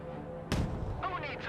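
A mortar round fires in the video game Broken Arrow, one sharp heavy boom that rolls off into a low rumble, followed by short radio-style voice chatter.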